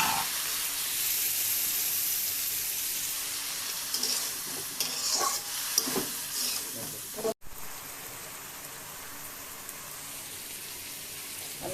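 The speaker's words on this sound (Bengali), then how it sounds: "ভেজে নিচ্ছি ভালো করে" Pabda fish curry with vegetables frying in oil in a pan, giving a steady close sizzle and hiss with occasional stirring scrapes, then quieter after a brief break.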